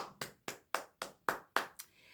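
Seven sharp hand claps at a steady, slightly uneven pace, close and fairly loud, each with a quick decay and no voices around them.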